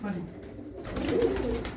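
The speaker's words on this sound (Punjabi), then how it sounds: "ਇਹ ਕਬੂਤਰ ਹੀ ਆ ਸਾਰੇ" Old red Cheena pigeons of Dhanna Baba's line coo softly in a loft, low murmuring calls rising near the end over a steady background and faint room noise.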